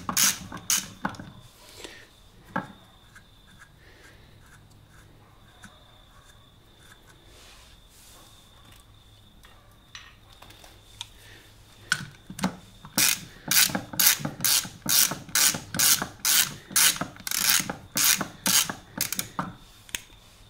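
A ratchet turns nylon lock nuts on a Honda CB125E motorcycle during drive chain and sprocket work, starting with scattered clicks and metal handling, then a long run of rapid, loud, evenly spaced ratcheting strokes close by.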